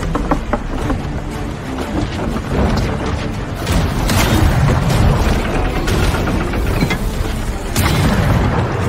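Heavy booming blasts from a cannon in the video game Pirate Party Animals, one after another over a dense rumbling background, loud and close.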